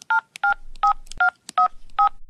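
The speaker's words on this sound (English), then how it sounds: "I'm going to make a prank 911 phone call." A telephone keypad dials 911 for a prank call: seven short, clear electronic beeps in an even rhythm, close and alone.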